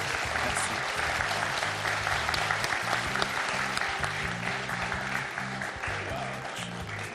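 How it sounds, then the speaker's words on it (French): Studio audience on the French TV quiz show Questions pour un champion applauds steadily, a dense, loud clapping that holds for several seconds over a low rhythmic music bed. "Applaudissements pour André quand même"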